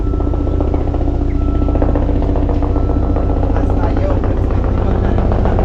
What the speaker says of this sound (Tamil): நான் உள்ளே வரும்போது ஒரு ஹெலிகாப்டர் போச்சு பார்த்தேன். இப்போ ஒன்று பறந்துக்கிட்டு இருக்குது.